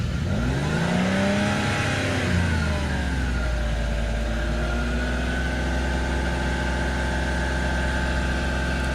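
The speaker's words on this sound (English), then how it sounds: "Can you rev the car up a little bit?" A used car's engine being revved up during a pre-purchase inspection: the pitch climbs and falls in a couple of sweeping revs, then settles into a steady, fairly loud hum, with no talking.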